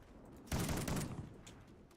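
Rapid burst of video game gunfire from an unfamiliar weapon, loud and dense, starting abruptly and then tapering into a quieter rattling tail.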